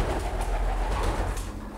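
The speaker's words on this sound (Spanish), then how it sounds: "Digamos de vuelo quiere decir que son palomas que actualmente están volando en los concursos que estamos organizando en Aragón" Racing homing pigeons kept in a flight loft for competition, their soft cooing and rustling forming a steady, close, dense murmur with no pauses.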